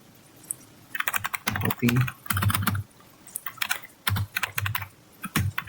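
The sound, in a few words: computer keyboard typing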